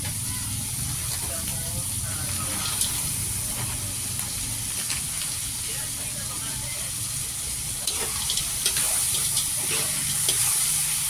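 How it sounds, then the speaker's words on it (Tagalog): Frozen mixed vegetables fry in a pan, giving off a steady, fairly loud sizzling hiss with small crackles that stays constant throughout. "next yan ay lalagay na yung mixed veggies. Ito yung frozen veggies na nabibili sa supermarket."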